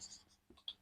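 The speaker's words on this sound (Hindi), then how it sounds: "तो चलिए लिखते हैं" Faint, quick scratching of notes being written by hand, a few short strokes in under a second.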